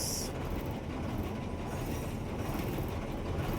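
A freight train carrying chemical tankers rumbles past close by at a level crossing, a continuous heavy roll of wheels on rails with faint rhythmic clatter, steady from start to finish.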